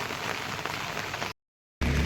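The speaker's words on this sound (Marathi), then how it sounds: "हा बघा केवढा पाऊस पडतोय थांबत नाही" Heavy dawn rain pours steadily on a village in the dark before sunrise, a dense continuous hiss that cuts out briefly before returning.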